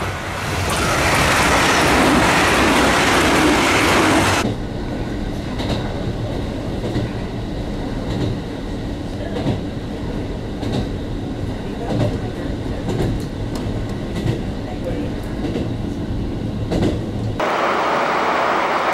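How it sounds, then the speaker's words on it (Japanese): A local train runs on the railway in Hokkaido, a steady rumbling roll with faint rhythmic clicks of wheels on track; a louder, brighter burst of noise opens the passage before it settles into a constant interior drone. "まずはやってきたこの普通列車で帯広に戻ります。"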